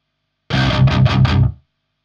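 Electric guitar struck hard through a high-gain booster pedal, a loud distorted burst of about one second made of four quick heavy strums, close and alone.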